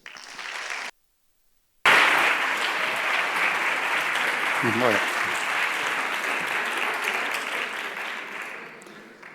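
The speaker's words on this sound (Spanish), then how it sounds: "Vamos a recibirle con un aplauso" An audience at a Zientzia Club 2021 science talk in Bilbao welcomes a speaker with sustained applause after a brief silence, dense clapping that holds steady and slowly tapers, with a few louder claps standing out.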